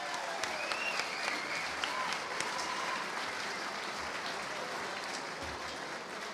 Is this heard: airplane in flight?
no